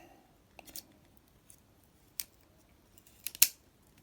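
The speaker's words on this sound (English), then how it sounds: "you can still use the scissors like that" Scissors on an MQ-039 multitool snipping a few times, quiet, close-up clicks: a couple of soft cuts early, one sharp snip mid-way, then a louder cluster of cuts near the end.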